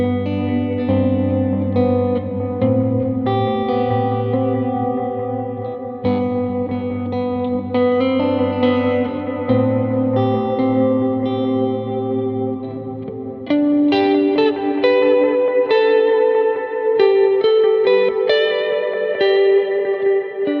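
Electric guitar played through a Line 6 dual delay and the big Dynamic Hall reverb setting, with lush sustained chords and notes washing into long echoing tails, continuous and loud with no talking.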